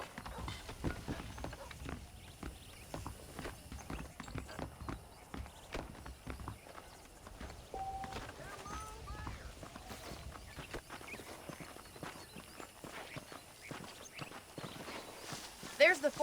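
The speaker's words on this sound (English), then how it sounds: "The horses are saddled up over here." Horse hooves clip-clop at a walking pace in the video game Red Dead Redemption, a steady, fairly faint rhythm of hoofbeats on a dirt street with other game sounds and speech over it.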